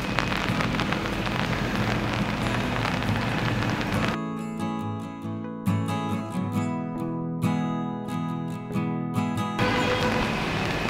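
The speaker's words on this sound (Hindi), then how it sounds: "आज बारिश रुक ही नहीं रही है।" Rain keeps falling steadily at a riverside camp near Shivpuri in Rishikesh, a dense continuous patter of drops on surfaces that stays loud and close throughout.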